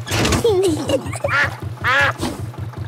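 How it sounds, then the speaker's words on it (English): A cartoon duck quacks repeatedly in quick, nasal bursts over a steady chugging boat engine on the water, close and loud, with a lively rhythm throughout. "Want a race, do you, Mrs Duck?"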